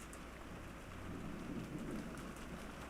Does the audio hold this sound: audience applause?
no